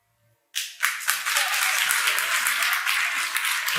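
A studio audience at a talk show breaks into sudden applause after a silent moment, a loud, sustained wash of clapping with a few scattered cheers, and no talking.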